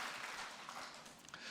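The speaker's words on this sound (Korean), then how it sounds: "우리 큰 박수로 하나님께 영광과 경외의 박수를 드리도록 하겠습니다" A church congregation at a Sunday service in Daegu gives steady applause after a choir hymn; a quiet, even patter of many hands with no voices on top.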